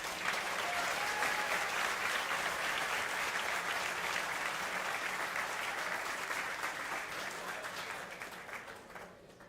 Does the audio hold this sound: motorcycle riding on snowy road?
no